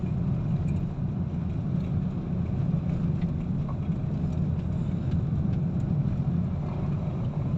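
A Hyundai Accent's engine drones steadily while the car climbs a long hill at low gear, a continuous close-up rumble from inside the cabin with no talking.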